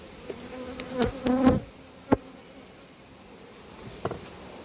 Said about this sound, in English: I'll have to get that wasp.